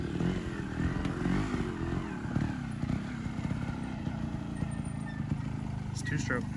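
A two-stroke SSR190 pit bike engine runs steadily with a low, buzzing drone throughout, fairly close and moderately loud, with faint voices in the background.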